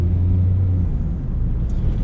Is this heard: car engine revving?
yes